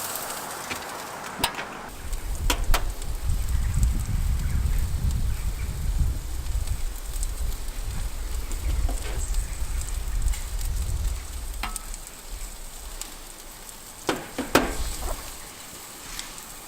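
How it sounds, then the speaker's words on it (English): Sirloin steak sizzling on a Weber Summit charcoal grill over direct heat, a steady close hiss and crackle with a low rumble, broken by a few sharp clicks and taps. "And pop on the grill"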